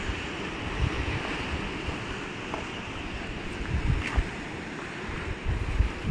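Sea waves roll in at Kapu Beach in Udupi, a steady broad wash of surf mixed with wind rumble on the microphone, with slight swells and no talking.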